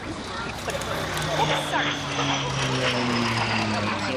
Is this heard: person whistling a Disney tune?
no